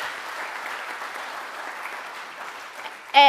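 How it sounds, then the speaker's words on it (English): Conference audience applauding Stuart at a party annual gathering, a steady, dense wash of clapping that fills the room for about three seconds before a brief louder burst at the end. "So a big round of applause to Stuart and everybody else."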